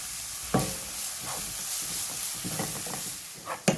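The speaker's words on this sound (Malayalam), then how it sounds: "ഈ നെയ്യിലേക്ക് ഞാനിവിടെ 1 കപ്പ് ക്യാരറ്റ് ഗ്രേറ്റ് ചെയ്തെടുത്തിട്ടുണ്ട്. ക്യാരറ്റ് ഇതിലേക്ക് ഇട്ട് കൊടുക്കാം." Grated carrot cooks in hot ghee in a pan, giving a continuous soft sizzle broken by a few sharp scrapes and clinks as it is stirred, close and alone.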